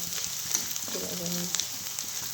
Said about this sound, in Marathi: मोहरीची फोडणी घेऊन कोथिंबीर लसूण कांदा आपल्या भाजायला परत कांदा लाल भाजला